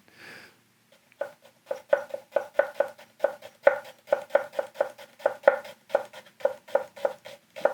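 Vegetables julienned with a thin-bladed Hatsukokoro Hikari kitchen knife, a fast, steady run of crisp chops striking the cutting board in close succession, near and clear with no talking.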